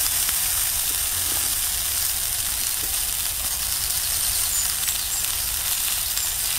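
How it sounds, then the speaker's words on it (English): Sausage sizzles in a pan outdoors in the woods on a cool sunny day, a steady, even frying crackle and hiss running throughout at moderate level with no talk over it. "I've also got the smell of sizzling sausage."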